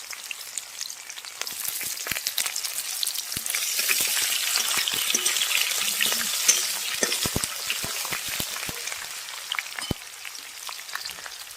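Chopped onion and slit green chilies sizzle steadily in hot oil, a close, continuous frying crackle with scattered pops and occasional stirring, and no talking.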